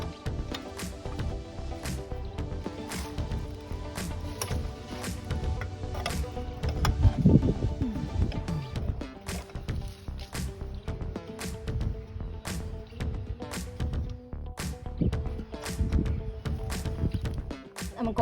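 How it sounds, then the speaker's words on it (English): A 15/16 wrench loosens the packing nut on a Woodford Model 17 faucet, giving a run of sharp metallic clicks and scrapes at irregular intervals, close by, with some handling noise and no talk. "I'm going to remove the packing nut with a 15/16 wrench."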